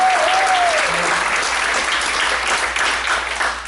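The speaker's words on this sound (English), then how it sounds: "Give her a round of applause." Audience at a live show in Sanford gives a round of applause, sustained dense clapping from a crowd, loud and even, with a brief voice heard at the start.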